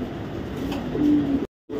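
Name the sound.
female racing pigeon cooing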